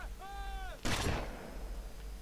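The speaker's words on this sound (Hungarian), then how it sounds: "Shotgun, konkrétan egy kézi ágyú a GTA-kban." A shotgun fires once in GTA: Vice City Stories: a single loud, sharp blast with a long rumbling tail, preceded by a brief wavering tonal game sound.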